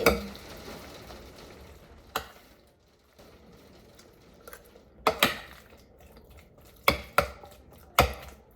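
A starch dish being stirred together in a bowl by hand, with a few sharp utensil clinks and scrapes against the bowl scattered over quiet, soft mixing, with no talking.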